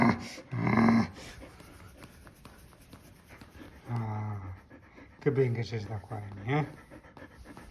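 Rapid, breathy dog panting comes in bursts close by, interleaved with a person talking.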